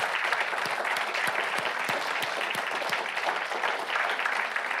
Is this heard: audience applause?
yes